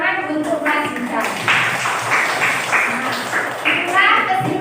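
Students clap together in a classroom, a dense patter of hands mixed with voices talking over it.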